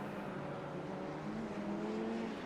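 A Radical race car powerslides out of a corner at Road Atlanta, its engine giving a steady, moderately distant roar with layered harmonic tones and no voices.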